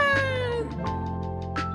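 A cat gives a drawn-out, falling meow followed by a few shorter, softer mews, heard close and clear with no voices.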